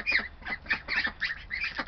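Ducks quack in a hen house, a rapid run of raspy, overlapping calls repeating steadily at close range.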